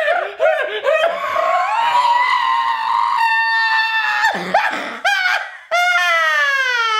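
Two people take turns imitating a horse with their voices, producing high whinnying squeals and wavering neighs in several bursts, one after another with short breaks.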